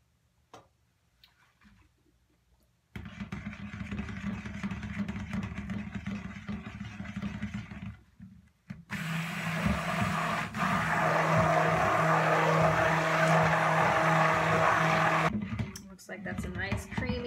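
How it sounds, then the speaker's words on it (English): A stick blender whirs through goat milk soap batter in two sustained bursts, a steady motor hum with gritty churning. A short pause separates the bursts, and quiet stretches come before and after. "And then we will stick blend this again and make sure that's all evenly incorporated"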